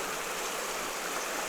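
Steady broadband rush of flowing creek water past an eroded gravel bar, continuous and close with no voices.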